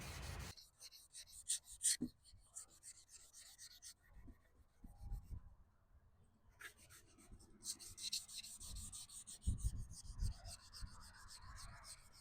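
Hand sanding of a Mercedes plastic headlight lens, a steady rasping rub in repeated strokes with brief pauses, close and moderately loud.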